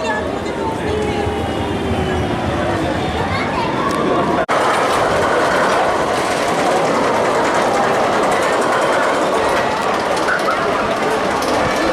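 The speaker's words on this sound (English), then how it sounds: "just had a ride on El Diablo Tren de la Mina, 30 years old this year, classic Arrow mine train" A classic Arrow mine train roller coaster, El Diablo Tren de la Mina at PortAventura World, thirty years old, rumbles and clatters continuously on its track, loud and close, with a sharp knock midway.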